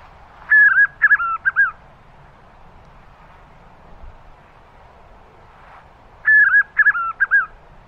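A small bird sings out in the Caatinga semi-arid scrub of northeastern Brazil, giving two short bursts of clear whistled notes separated by a quiet pause, fairly close against a calm backdrop.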